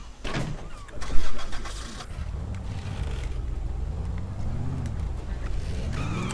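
A car in the zombie game Dead Island revs and drives, with a sharp burst near the start and then a rumbling engine that swells and dips in pitch as it accelerates.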